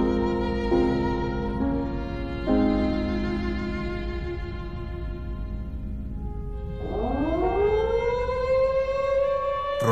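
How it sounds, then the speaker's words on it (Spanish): Air raid sirens wail at dawn, several long tones held and overlapping, then one winding up in a rising sweep, loud and alone with no talk. "Rompen entonces el alba las vibraciones alarmantes de las sirenas."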